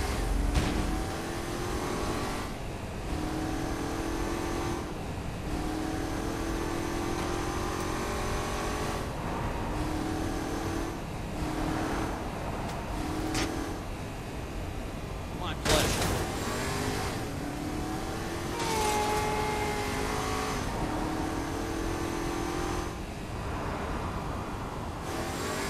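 A car driven in Saints Row IV hums with a steady engine drone that rises and falls as it revs through gears, close and continuous, with mechanical creaks and occasional speech over it.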